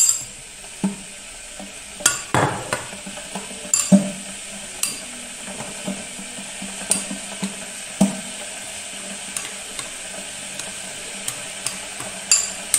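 A spoon stirs a za'atar spice mix with oil in a bowl, with repeated clinks and scrapes at an uneven rhythm, close and fairly crisp.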